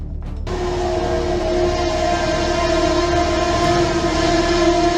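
A train at a level crossing sounds a long, loud two-tone horn over the rumble of its approach, shortly before it strikes a dump truck that has crossed with the gate down.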